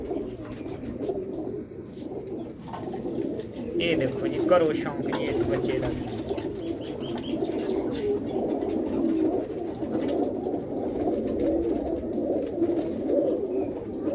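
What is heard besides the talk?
pigeons cooing on a roof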